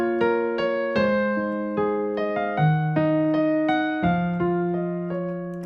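Solo piano plays a slow passage from a song, with clear single notes and chords struck one after another at an unhurried pace, close and alone.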